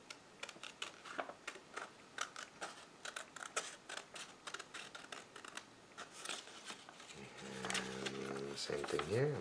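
Scissors snip paper for a hand print Santa craft in a quick string of crisp, close cuts, followed by a brief rumbling handling noise near the end.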